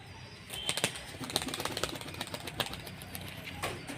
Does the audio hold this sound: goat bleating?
no